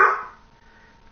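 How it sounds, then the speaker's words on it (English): A pet dog gives a single sharp bark at close range, fading quickly into quiet room tone. "Quiet, dog."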